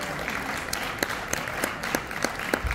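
Brief, fairly faint round of audience clapping at a food and gastronomy event in Andorra, with a few sharper individual claps standing out from the steady patter.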